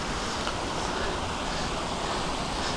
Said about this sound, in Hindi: एक और फॉल है जो काफ़ी सुंदर है